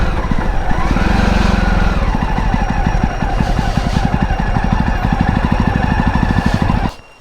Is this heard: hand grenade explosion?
no